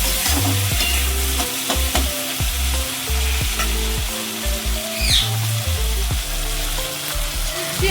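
Ginger and garlic paste sautés in a pan, a loud continuous sizzle broken by repeated scraping stirs of a spatula, close up with no talk.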